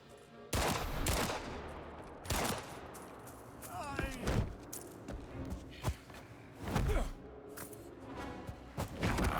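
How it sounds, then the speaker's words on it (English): Gunshots in the video game Indiana Jones and the Great Circle, several loud close cracks spaced irregularly over the span, mixed with thuds, scuffling movement and brief voice-like sounds. "Alright, I'm gonna shoot him again."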